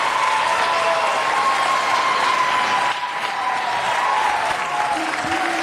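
Sustained applause fills a budget hearing chamber after a vote, a dense even clapping from a crowd that holds steady throughout with a faint murmur underneath.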